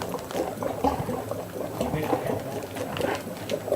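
Water runs steadily from a kitchen tap during a coconut ice cream prep, a continuous splashing hiss that is fairly close and moderately loud and stays even throughout, with no voices.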